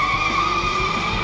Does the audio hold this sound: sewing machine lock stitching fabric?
no